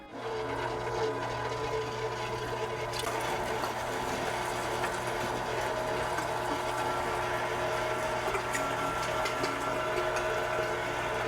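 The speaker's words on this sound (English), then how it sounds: "Turn our grinder on, and I will be grinding this twice for the record." An electric meat grinder runs steadily through chilled pork shoulder, giving a continuous mechanical whir and hum with no pauses or talk.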